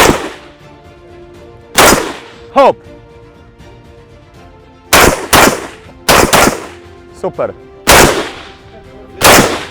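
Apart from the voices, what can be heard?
AK-47 rifle gunshots at a shooting range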